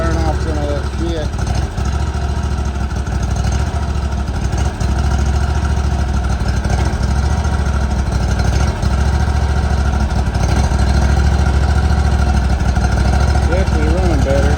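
The Kawasaki FR691V V-twin on a 2018 Hustler Raptor SD mower, freshly fitted with a new head gasket and valve seals, idles in a continuous low, even rumble that stays steady and close throughout.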